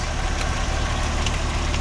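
A steady low 1965 Ford Falcon engine idle rumbles continuously, close and even, with no other sounds.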